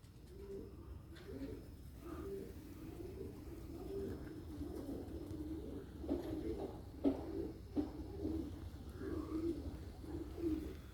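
Pigeons coo steadily in a soft, continuous low murmur, with a few sharper bird calls and chirps breaking through; the flock of homing pigeons sounds close and fairly quiet, with no talking.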